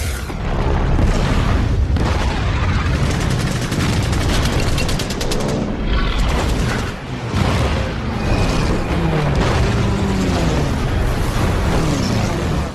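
Heavy explosions and bursts of gunfire from the Japanese bombing of Pearl Harbor, the main American base in Hawaii, on 7 December 1941: loud, dense, continuous blasts and rattling fire with deep booms throughout.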